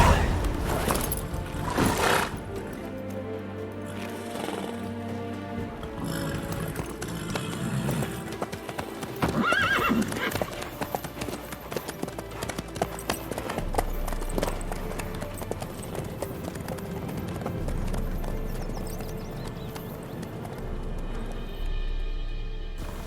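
Horse hooves clip-clop at a steady rhythm in The Witcher 3, a galloping-pace beat running under game music with brief voices speaking over it.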